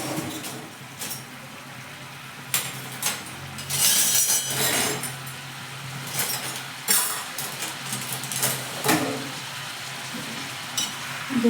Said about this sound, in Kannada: ಟೊಮೊಟೊ, ಹಸಿಮೆಣಸಿಕಾಯಿ ಎಲ್ಲ ಎಣ್ಣೆಗೆ ಚೆನ್ನಾಗಿ ಫ್ರೈ ಆಗಬೇಕು.